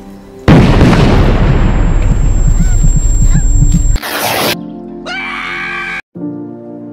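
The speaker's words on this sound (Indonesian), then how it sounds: "tiba-tiba sebuah granat meledak tepat di belakangnya Sergei" A grenade explosion in a film: a sudden loud blast erupts into a long roaring rumble mixed with screaming, then cuts abruptly to quieter, shifting sounds.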